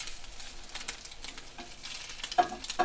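Crab cakes fry in a pan while being flipped over, producing a soft, low sizzle broken by a couple of brief scrapes and knocks from the turner near the end, close with no voices.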